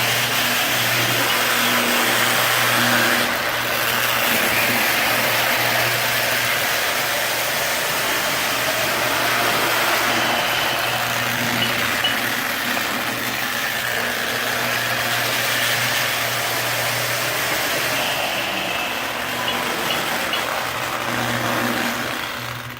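A small electric motor of a Lionel model train whirs and hums steadily with a faint rattle, running continuously and fairly loud with no voices.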